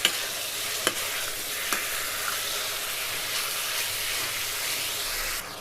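Chicken sautéing in a pan for chicken rogan josh, a steady broadband sizzle with a few sharp stirring scrapes near the start, close and moderately loud, no voices.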